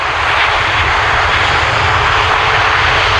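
Red Arrows jets line up on the runway at the 2006 Leuchars airshow. A loud, steady jet-engine roar fills the air without a break, close and constant, with no voices.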